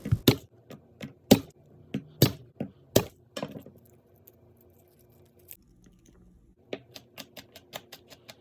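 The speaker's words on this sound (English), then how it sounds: "Smashing and mincing up some garlic." Garlic is smashed and minced with a knife on a cutting board: a run of sharp, rhythmic chops close by, a brief pause, then a quicker series of lighter taps.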